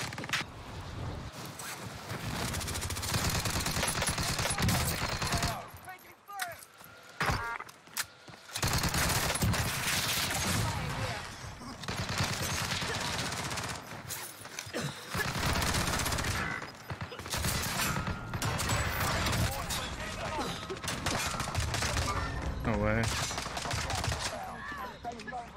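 MAC 10 fire in the video game Warzone on Rebirth Island rattles in rapid, near, continuous bursts broken by short pauses, with gunfire from other weapons mixed in and occasional voices underneath.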